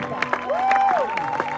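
A church congregation cheering and applauding, brief scattered claps and crowd noise at moderate distance, with a loud whistle or shout rising over it in the middle.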